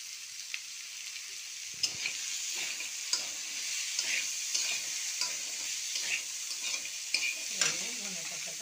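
Chicken with chopped tomato and green chili sizzles softly in a pan, a continuous fine hiss punctuated by regular stirring taps and scrapes roughly every second.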